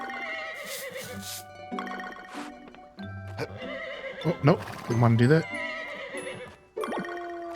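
Horse in the farming game Grand Bazaar neighing and whinnying with hoof clip-clops, a player talking over the sounds throughout.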